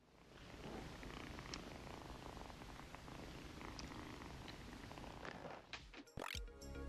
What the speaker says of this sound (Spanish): Tan a gusto que podemos escuchar su ronroneo